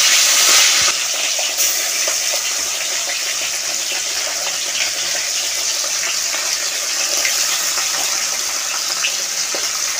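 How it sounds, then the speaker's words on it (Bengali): Fish frying in hot oil in a Bengali kitchen produces a loud, steady hissing sizzle that fills the whole stretch with a dense, broadband spray of crackle and no speech. "তেলটা হয়ে গেছে, আমি মাছগুলো ভেজে নিচ্ছি।"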